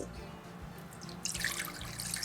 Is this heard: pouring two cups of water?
yes